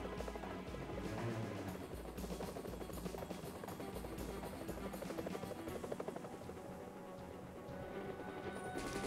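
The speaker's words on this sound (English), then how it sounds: "Am I doing a chopper pursuit fight now?" Helicopter rotors thud loud and steady throughout a chopper pursuit fight in the Tomb Raider III Remastered video game, a constant churning drone mixed with busy game effects and no talking.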